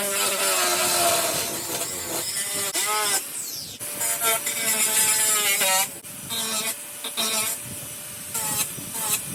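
Cutting tool trimming a WRX STI front lip being fitted to an Acura RSX, a loud, close grinding buzz in repeated bursts with short breaks, harsh and continuous while cutting.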